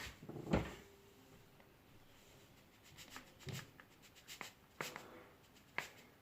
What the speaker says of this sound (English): Get another teaspoon out of the drawer.